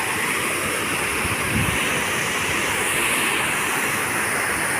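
Steady broadband roar of water cascading down a gravity-fed waterfall in the Villa d'Este gardens at Tivoli, continuous and fairly close with no talk.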